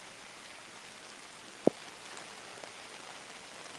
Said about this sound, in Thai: ตอนนี้ฝนตกหนักแล้วก็น้ำท่วมสูงมากนะคะ